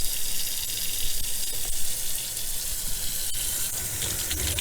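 Warm water runs steadily from a kitchen sink tap, a continuous close splashing hiss with no voices.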